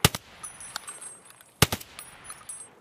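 Gunfire from a boss-fight video game: two sharp broadband bursts, one at the start and another about a second and a half later, each with quick follow-up shots, over a faint high electronic tone.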